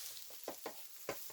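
Sliced spring onions and eggplant fry gently in a pan, giving a quiet continuous sizzle with a few soft stirring scrapes and pops.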